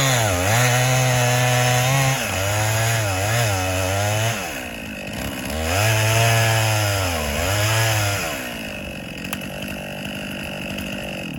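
A chainsaw cuts into a tree being felled with wedges, its engine loud and close, revving up and down in long surges as the bar advances through the wood.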